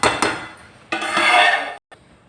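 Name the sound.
lid placed back on a cooking pan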